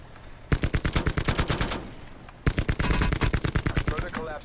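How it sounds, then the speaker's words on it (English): Rapid bursts of automatic gunfire in Call of Duty Black Ops 4 Blackout, two loud rattling volleys of evenly spaced shots separated by a brief lull, close and dominant. "Shots everywhere."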